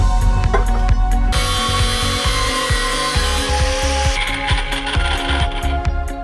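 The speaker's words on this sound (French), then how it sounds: "on va commencer par lui couper le manche" A knife handle is cut off with a saw, making a steady, grinding cutting noise with regular sharp ticks and strokes throughout.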